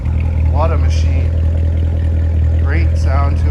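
Low, steady rumble of a supercharged 650 hp 2016 Chevrolet Corvette Z06 idling up close, loud and continuous throughout with brief whoops of sound layered on top.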